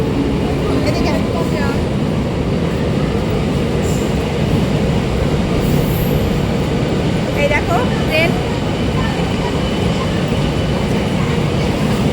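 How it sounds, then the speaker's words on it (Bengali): A train pulls into a station platform, a loud steady rumble of wheels and carriage noise filling the whole stretch, with a few brief squeals and voices in the background. "ট্রেন চলে এসছে এবার এই ট্রেনে যাবো"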